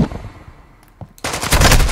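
A Vaznev 9K fires in the video game Modern Warfare 2: a short crack, a brief lull, then a loud, sustained burst of rapid automatic fire.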